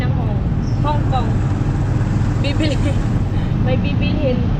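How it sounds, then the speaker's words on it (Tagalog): A motorized tricycle engine while riding, a loud, constant low engine drone and road rumble, with people talking over it. "Ayun guys, nandito na kami sa tricycle."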